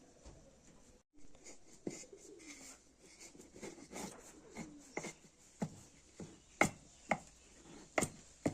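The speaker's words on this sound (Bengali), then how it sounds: "একটা ছোট সাইজে লাউ নিয়েছি এটাকে টুকরো টুকরো করে কেটে নেব" A small bottle gourd being chopped into pieces with a knife on a board, sharp distinct thuds that grow more regular and louder toward the end, with faint bird coos in the background.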